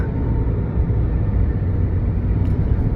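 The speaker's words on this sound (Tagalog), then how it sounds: "Mga truck." Trucks rolling along a road, heard as a steady, continuous low rumble of engines and tires from a short distance with no pauses or talk.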